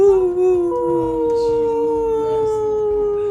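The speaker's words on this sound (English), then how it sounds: "the vibrations of the howls counteract each other" A wolf howls in a long, sustained, slowly falling tone with clear harmonics, a second fainter howl layered beneath, close and clean with no voices.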